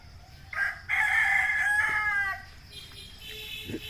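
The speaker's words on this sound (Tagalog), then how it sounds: "yung mga manok yan, alaga pa rin ni mother yan." A rooster crows once, loud and fairly close, a long drawn-out call, followed by quieter outdoor sounds and a faint bird chirp.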